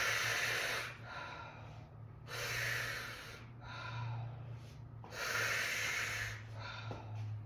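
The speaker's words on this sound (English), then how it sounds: "So same thing, 3 mouth breaths here." Three forceful mouth breaths during a fascia-release breathing exercise, each a broad breathy rush alternating with short quieter gaps, close to the microphone with a low steady hum underneath.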